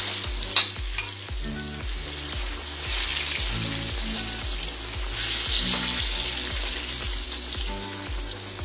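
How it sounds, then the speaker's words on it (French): Plantain fries cook in hot oil, giving a steady, loud sizzle and bubbling that runs throughout, with a few faint stirring knocks and no talking. "je vais me servir de la même huile pour cuire mes frites de plantain"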